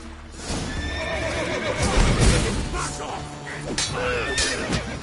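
A horse in The Witcher video game neighs loudly with a shrill whinny, hooves clopping underneath, followed by more snorting neighs against a busy game background.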